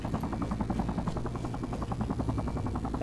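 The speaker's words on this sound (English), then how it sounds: "That helicopter sounds a little ominous." A helicopter in Sniper Ghost Warrior 3 flies overhead with a steady, heavy rotor thump and a low engine rumble that hold at an even, fairly close level throughout, with no voices.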